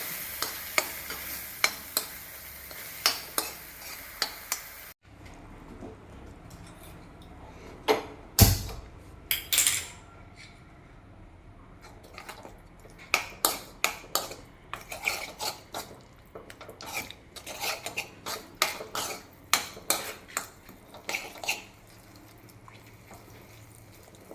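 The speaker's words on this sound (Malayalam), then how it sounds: "എണ്ണ തെളിയുവോളം നമ്മളിത് ഇളക്കി കൊടുത്തുകൊണ്ടേ ഇരിക്കണം" A spoon or spatula stirs a thick masala mixture in a pan as the oil separates. Close, repeated scraping strokes and metal clinks come in uneven bursts over a soft, steady sizzle, with no voices.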